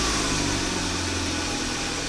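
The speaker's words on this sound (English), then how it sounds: "This will trigger remote starting of the vehicle." A 2011-2016 Kia Sportage engine idles steadily after a remote start, a low, even hum that stays constant throughout with no voices.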